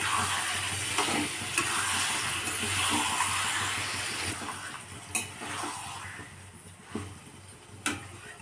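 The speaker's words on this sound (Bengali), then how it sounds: "ধুয়ে রাখা লোটে মাছটা নুন মাখানো এটা দিয়ে দিলাম, দিয়ে এবার এটা কষিয়ে নিতে হবে।" Salted Bombay duck fish frying and being stirred in a hot pan, a steady wet sizzle throughout with a few sharp clicks of a spatula against the pan near the end.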